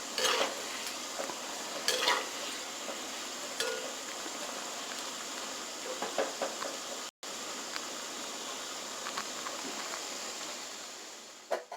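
Maida biscuits frying in oil over a slow flame, a steady soft sizzle throughout with occasional clinks and scrapes of a utensil against the pan, no talking.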